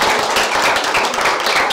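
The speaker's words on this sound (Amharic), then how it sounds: "አጨብጭቡላት።" An audience applauds for a young girl at an Easter holiday charity event, a short dense burst of many hands clapping close and loud, with no one talking over it.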